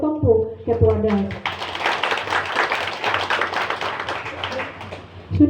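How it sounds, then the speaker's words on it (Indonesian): An audience claps together for the head of DAS at a PKK gathering in Jayapura, Papua. The clapping is dense and sustained, with talking just before it begins and again as it ends. "Kita tepuk tangan dulu untuk ketompu ketua DAS."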